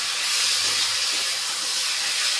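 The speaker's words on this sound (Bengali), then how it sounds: "দিয়ে ভালো করে কষে নিই" Spices with turmeric and salt are sautéed with catla fish curry in a hot pan, giving a loud, steady, close hiss of sizzling throughout with no talking.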